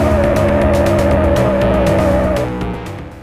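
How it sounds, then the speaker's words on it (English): A car drifting sideways in the PC racing game Screamer, with a loud sustained tire squeal over a droning engine that holds steady for over two seconds, then cuts off as the engine fades slightly. "as my car's drifting, it's kind of continually turning more and more sideways until I straighten out"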